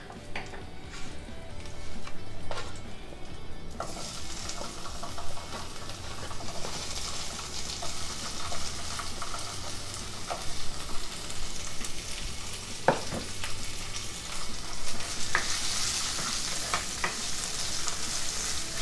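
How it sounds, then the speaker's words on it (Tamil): Capsicum and mushrooms sizzle and fry steadily in a hot kadai, with occasional clicks and scrapes of stirring throughout. "குடமிளகாய நல்லா வதக்கிக்கலாம்."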